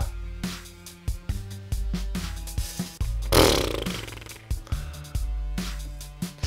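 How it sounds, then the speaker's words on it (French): A spinning saw trap in the video game Vex, heard as repeated sharp mechanical whirring bursts in an irregular rhythm, with a louder grinding rush near the middle, clear and close with no talk. "Quand l'autre scie arrive juste après, c'est meurtrier"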